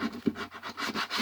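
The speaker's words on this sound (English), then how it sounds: "I like 80 grit. So I'm basically going to sand this whole guy's face down." 80-grit sandpaper rasps across the face of a Magic Sculpt epoxy clay figure in about six quick, rhythmic back-and-forth strokes, close and moderately loud.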